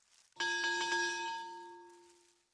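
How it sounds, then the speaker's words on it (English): A single bell struck once in the video game Highly Likely, a clear ringing tone with a sharp onset that decays slowly over about two seconds, heard alone. "Mikola crossed to the other side of the river and started ringing the bell again."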